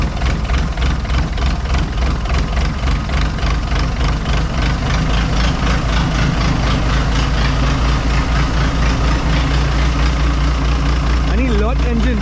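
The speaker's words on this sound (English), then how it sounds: "It's like a car engine basically on this boat." A car-type engine mounted on a boat in Pattani, Thailand, runs loud and close with a steady, low, throbbing drone that holds unchanged throughout, with faint voices mixed in.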